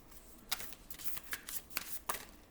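Tarot cards are shuffled by hand in a quiet room, giving a few separate crisp riffling bursts spread over a couple of seconds, close and fairly soft.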